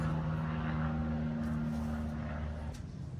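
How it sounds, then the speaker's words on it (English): An airplane drones overhead during an outdoor exercise session, a steady low engine hum with tonal bands, fairly loud and easing slightly toward the end, no talk. "There's an airplane."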